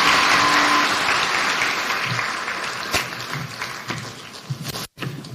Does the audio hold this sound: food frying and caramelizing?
no